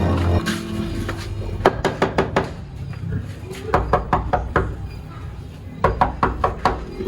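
Knocking on a door comes in short groups of sharp, hard raps, repeated several times with pauses between, loud and close over a low background hum.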